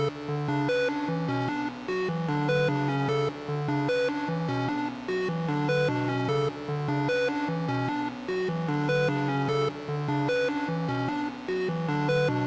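Three synth melodies layered together in FL Studio, steady pulsing notes repeating in a looping pattern, loud and full with no voices.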